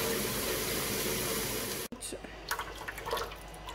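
Hot tap water pours into the basin of a Drinkwell pet water fountain as a steady broadband rush that cuts off abruptly midway, followed by quieter splashing and dripping with scattered clinks.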